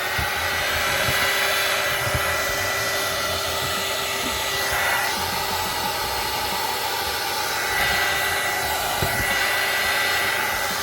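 A hair dryer blows at a steady, loud, constant roar while drying a recycled wood craft star, with no talk over it.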